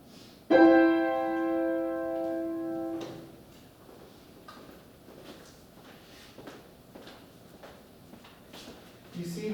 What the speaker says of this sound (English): that sound with those three pitches on the piano